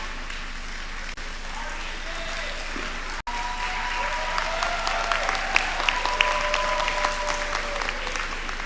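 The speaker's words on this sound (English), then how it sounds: "Yes, you can give them a round of applause." An audience at a university fall matriculation convocation breaks into sustained applause for academy members, a dense, steady wash of clapping from a large hall crowd that swells slightly as it continues.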